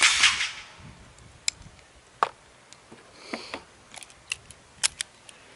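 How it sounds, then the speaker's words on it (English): Concealed carry revolver being loaded with a speed loader: a series of sharp metallic clicks and small clacks spaced irregularly, close and fairly crisp, following a brief rustling burst at the start, with no talking. "I'm going to need to do a weird cut here while I load this speed loader."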